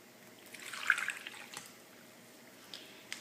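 Faint splashing of water poured in a short stream into a mixing bowl of cake batter, quiet and close, followed by a few soft drips and clinks.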